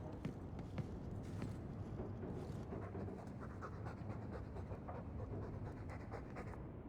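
A dog pants steadily in Dragon Age II, a soft, rhythmic quick breathing that runs unbroken at low volume throughout.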